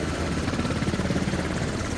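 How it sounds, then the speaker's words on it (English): Helicopter in the military shooter Squad, with a steady, loud, close rotor thump and engine roar filling the whole moment without pause. "exit the helicopter"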